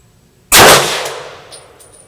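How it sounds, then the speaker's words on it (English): A single loud, sharp shot from an HK P30L pistol fired in double action at an 18-inch target, ringing out alone and decaying over about a second and a half. "we're going to take 5 shots to the center mass of that 18-inch target"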